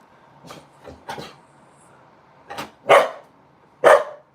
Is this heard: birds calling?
no